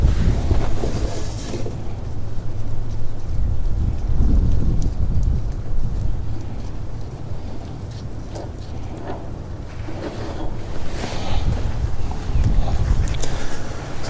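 Wind blowing outdoors during a trailer brake installation, a loud continuous rumbling gust buffeting the microphone throughout, with faint clinks and handling noises underneath.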